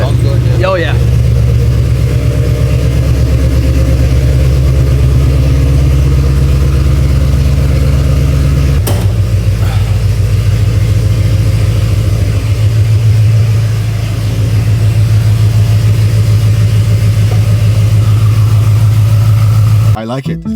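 A Ford Mustang with a rear seat delete idles loud and close, a steady deep rumble with one brief blip midway, and people talk over it.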